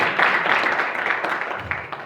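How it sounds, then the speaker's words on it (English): An audience at a community meeting breaks into applause, a steady wash of many hands clapping that swells early and then gradually tapers off over two seconds. "You can clap for that."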